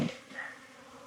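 Honey bees buzzing around an opened honey box in an October apiary in Jacksonville, Florida; a steady, fairly faint hum of many insects with no talk.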